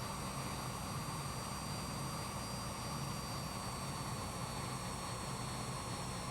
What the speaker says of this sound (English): So, looking for runway 17, someone's taking off now.